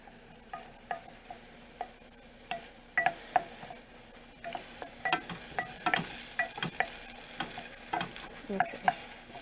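Garlic cooks in butter over very low heat for a pizza white sauce, with a soft background sizzle and scattered clinks and scrapes of a utensil against the pan that grow busier toward the end.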